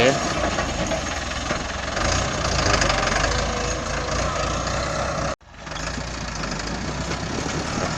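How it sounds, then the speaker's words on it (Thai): A loud, steady tractor diesel engine rumbles continuously with a rough knocking texture, briefly cutting out for a moment before running on, at a rice field. "ผู้ใหญ่กับมาขับรถเองเลย รถไถ"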